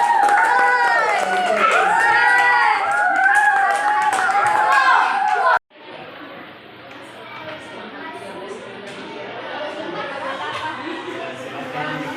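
Classroom clapping during a teacher training lesson, a burst of many hands applauding briefly at the start and cut off abruptly, followed by children's chatter and background noise.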